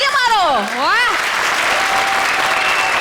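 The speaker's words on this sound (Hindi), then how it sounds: "क्या बात बोल दी, तालियां मारो।" A loud whooping vocal cheer sweeps up and down as a studio audience at a comedy show breaks into sustained, dense applause that carries on strongly to the end.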